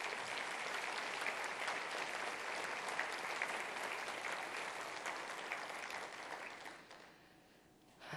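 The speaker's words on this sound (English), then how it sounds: "Let's give them a round of applause." A conference audience applauds CNA staff with sustained, dense clapping that holds steady, then thins and fades near the end.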